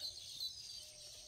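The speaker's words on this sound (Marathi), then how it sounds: "पक्ष्यांचा किलबिलाट।" Birds chirp and twitter faintly in the distance on a foggy morning in green coastal Konkan countryside at Shiroda, a steady high chatter of calls over a quiet outdoor background.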